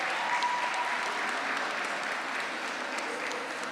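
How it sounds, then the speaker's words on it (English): Applause fills the hall at an inter-primary schools debating championship, a steady wash of clapping from a sizable audience held at an even level for several seconds with no voices above it. "I hear some cheering"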